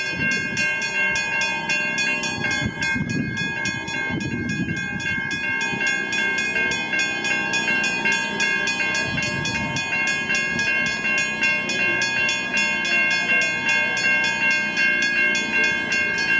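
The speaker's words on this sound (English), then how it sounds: "Loco, Hayden." A V/Line N class diesel locomotive, number N463, idles and passes at South Geelong, giving a steady loud engine rumble with strong sustained tonal whine across the whole stretch and no voices.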